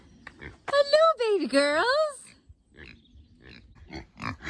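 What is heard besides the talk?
kunekune pigs grunting and oinking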